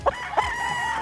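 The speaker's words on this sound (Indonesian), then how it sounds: "ini hasil ternakan ayam Filipin" A Philippine-breed rooster crows once on a chicken farm in Bali, a close, loud, drawn-out call standing alone.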